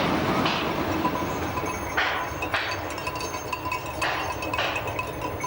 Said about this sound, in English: E206 is a splendid sight as she powers through the countryside